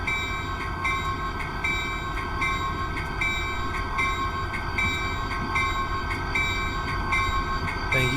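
A simulated train pulls into Salt Lake City station in Train Simulator, a loud, steady rumble of rolling wheels and engine with a faint rhythmic clatter underneath.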